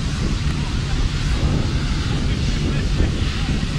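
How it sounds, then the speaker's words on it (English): A strong crosswind buffets the microphone at an outdoor tank fire being fought with AR-AFFF foam from a fixed monitor, a loud continuous rumbling roar that drowns out any other sound. "Very strong crosswind"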